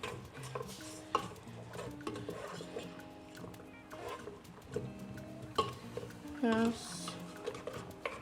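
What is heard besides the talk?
stirring chicken pepper soup in a pot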